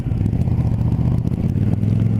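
Kawasaki Z650 motorcycle engine running steadily up close, a smooth, balanced low rumble with a constant throb and faint clatter, heard alone with no talking.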